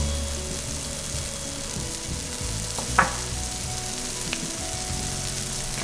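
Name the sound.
mushrooms frying and sizzling in a pan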